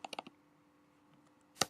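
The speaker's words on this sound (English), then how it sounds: "So we're now going to click on that link" A computer mouse clicks on a link to open a KML file: a quick run of sharp, close clicks at the start, a long quiet gap, then one louder click near the end.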